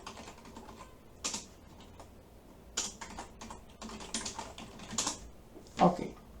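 Python code being typed on a computer keyboard, sparse clusters of quiet clicks with pauses between bursts and a few sharper key strikes, no talk over it.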